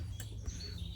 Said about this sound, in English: Those birds seriously are singing all day long.